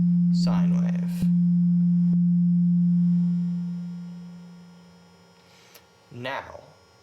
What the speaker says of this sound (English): Here's your perfect sine wave.